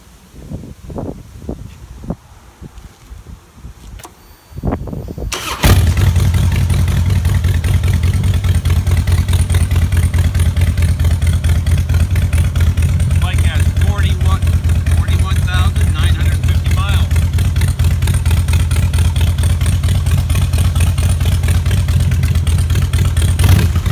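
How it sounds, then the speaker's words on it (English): A 2003 Harley-Davidson Softail Deuce V-twin motorcycle engine cranks with a few sputters, then catches and settles into a loud, steady, throbbing idle that continues to the end. "Nice V-twin Harley-Davidson roar."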